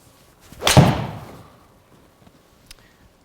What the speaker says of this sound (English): Lovely shot there, Matty boy.